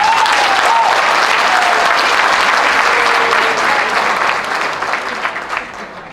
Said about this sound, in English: Let's clap big hands for it.